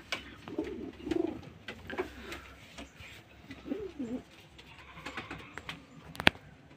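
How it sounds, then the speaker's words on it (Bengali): Pigeons coo softly in their rooftop coop boxes, one to a box, with low throaty bursts coming in two short spells amid faint rustling and a sharp click near the end, quiet and close. "আর এই যে প্রত্যেকটা ঘরে একটা করে পায়রা আছে এখন।"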